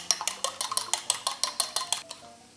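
Eggs with salt are whisked briskly in a bowl, giving a quick, even run of about fifteen clinking taps, close and clear, with no talking.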